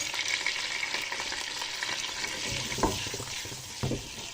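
Chopped onions fry in a pot, producing a continuous close sizzle with occasional stirring knocks and scrapes toward the end, and no voices over it.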